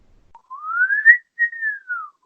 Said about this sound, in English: Do the whistle.